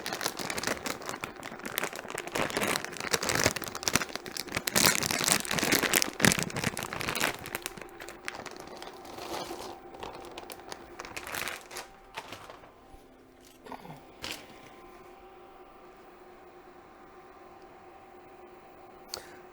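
Bags of frozen broccoli cuts, about four cups, are tipped into a pot, giving a dense run of crinkling plastic and icy rattling pieces that fades into a quieter sizzle and hiss.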